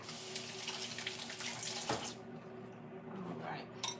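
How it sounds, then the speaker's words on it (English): A kitchen tap runs steadily while something is rinsed in the sink, a soft continuous water rush with splashing that thins out toward the end. "And I'm going to rinse this out."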